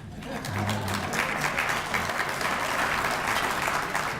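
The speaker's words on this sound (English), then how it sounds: "you can applause, it's okay" Audience applause at a Chamber of Commerce awards dinner, a steady wash of many hands clapping that swells quickly and holds evenly throughout, fairly close and filling the room with no voices.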